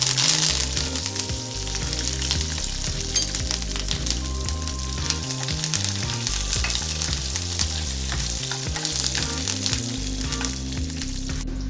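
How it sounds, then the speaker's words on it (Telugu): Mustard seeds, dried red chillies, green chillies and curry leaves crackle and sizzle in hot oil for a Rayalaseema egg garlic dish, loud and close, with steady stirring and no talk. "ఆయిల్ వేడైన తర్వాత తాలింపు గింజలు, ఎండుమిర్చి, పచ్చిమిర్చి, కరివేపాకు వేసుకోవాలి."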